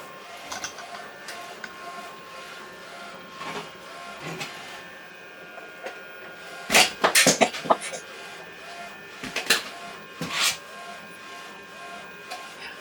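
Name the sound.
Procolored F13 Panda DTF L1800 printer printing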